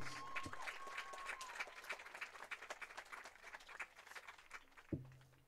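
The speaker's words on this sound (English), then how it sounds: "a final GSW round of applause for number 10, Shelby Mills" Crowd applause at a women's soccer senior-day ceremony, steady clapping from stadium stands at moderate distance, swelling with a few sharper claps and a brief PA tone near the start.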